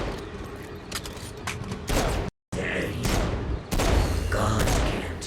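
Pistol shots ring out in Saints Row: Gat out of Hell, a quick run of loud, close cracks mixed with game effects and a voice speaking, broken by a brief dead-silent dropout midway.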